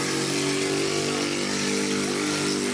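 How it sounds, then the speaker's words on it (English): A scooter passes loudly on a city street in The Hague, its close, steady engine drone with buzzing tones filling the whole moment. "the scooters can be surprisingly loud"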